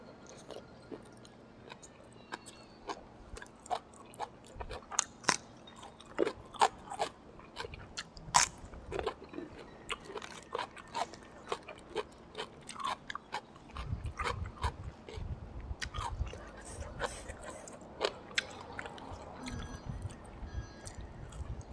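Close, crunchy biting and chewing of grilled pork eaten with sticky rice, a steady run of sharp crackly bites and wet mastication throughout, with no talk.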